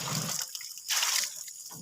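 Water from a natural spring in rural fields trickles and splashes in uneven bursts, a steady close liquid rush that swells and fades twice.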